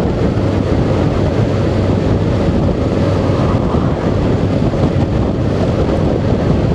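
Steady, loud wind buffeting the microphone while riding a Honda NC750X motorcycle through the Cotswolds, a constant roaring rush with no pauses and no talk.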